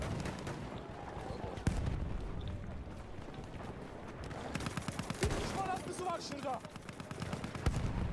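Rapid video game gunfire crackles in bursts and single shots over a busy battle soundscape, with loud cracks standing out amid continuous combat noise.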